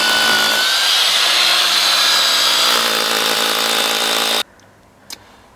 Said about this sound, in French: je vais percer à peu près à 4 cm de mon trait